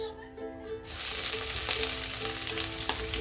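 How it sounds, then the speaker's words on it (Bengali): Chopped onion dropped into hot oil with panch phoron, bursting into a loud close sizzle after a quieter start and then hissing steadily. "কুচনো পেঁয়াজটা অ্যাড করে দিলাম দিয়ে ব্রাউন করে ভেজে নেব"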